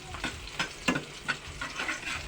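Crablets sauté in a hot pan with a steady close sizzle, broken by a few stirring scrapes and clatters.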